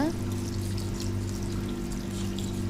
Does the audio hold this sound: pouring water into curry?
yes